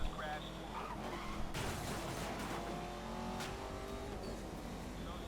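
Race car engine accelerating in Need for Speed Most Wanted: a steady, revving engine roar with rising gear pitches and a skidding burst, while someone talks over it.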